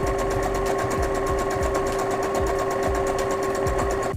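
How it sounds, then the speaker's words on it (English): A sewing machine stitches a zigzag seam through clothing with a fast, even whir and rapid rhythmic needle ticks. It runs continuously and close up, alone. "That's a zigzag stitch."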